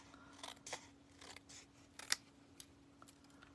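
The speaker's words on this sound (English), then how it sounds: "I think I'm actually going to go ahead and just trim it off" Scissors trimming the paper edge of a handmade Christmas card, a quiet series of short snips and crisp cuts, spaced irregularly with one sharper snip near the middle, no speech.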